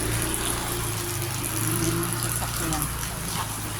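A car engine runs steadily with a low, constant hum and rumble close by, while people talk over it.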